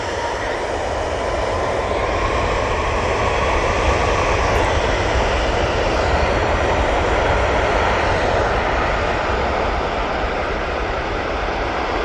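An airliner departs Manchester Airport bound for Faro, its engines producing a loud, steady broadband roar that holds evenly throughout, with no voices present.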